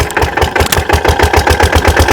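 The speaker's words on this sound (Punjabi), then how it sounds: "ਚਲਾਤਾ ਫੀਟਰ ਇੰਜਣ" A Petter diesel engine runs an irrigation water pump for paddy fields in Punjab, a loud close steady thumping beat with rapid regular pulses and no voices over it.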